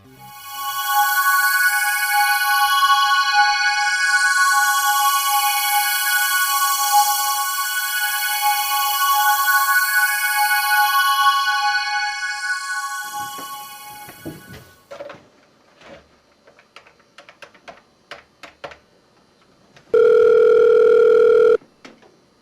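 An old landline telephone's electronic ringing tone sounds loud and steady for about thirteen seconds, then stops, followed by faint handling clatter and a short, loud tone burst near the end.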